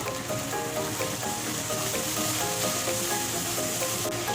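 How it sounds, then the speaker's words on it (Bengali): Spices and ginger paste cook in a pan with a little water, a steady, dense sizzle that crackles evenly and close throughout with no pauses. "এটা ভালো করে কষে নেব"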